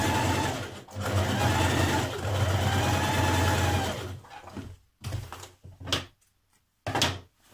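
A sewing machine stitches a dress seam in a steady, loud whirring run for about four seconds, then breaks into several short bursts with brief pauses between them.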